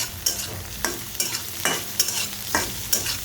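Potatoes frying in a pan for aloo bhaji, a close sizzle broken by regular scraping stirs of a spatula, about one stroke every half second, with no talking.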